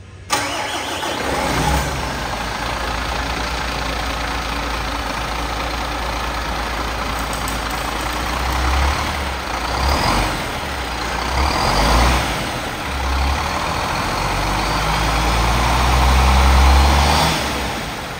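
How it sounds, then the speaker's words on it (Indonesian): A MAN bus chassis diesel engine running, a loud steady low rumble close by, with a few gentle swells in revs partway through and a stronger rise near the end. "jadi kita sudah nyalakan mesinnya, dan seperti inilah ketika mesinnya nyala ya"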